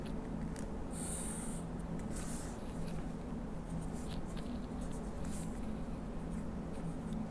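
A pencil drawing a ray for a geometric construction with a compass, producing faint scratchy strokes against paper over a steady low background hum.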